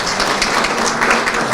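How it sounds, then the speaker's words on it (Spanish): A crowd at a book launch applauds to welcome a speaker to the stage, a loud, even wash of clapping that carries on for the whole moment without talk. "vamos a recibirlo con un aplauso"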